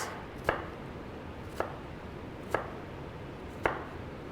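A knife dices an onion on a cutting board with four sharp, evenly spaced chops about a second apart. The chops sit close and clear over a quiet background.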